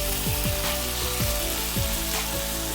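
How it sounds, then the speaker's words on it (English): Marinated king prawns dropped into hot malwani masala, a continuous loud sizzle with a low tonal hum underneath and several short descending swoops recurring every half second or so. "Now I'll add the marinated prawns to it"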